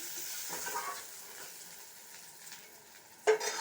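Pieces sizzling as they fry in ghee while making carrot halwa, a soft steady hiss with faint stirring scrapes and a sharper clatter near the end, no voices.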